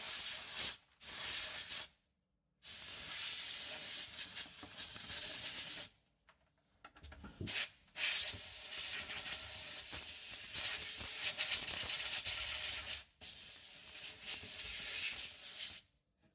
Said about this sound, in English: Clean the thread and use some penetrating oil.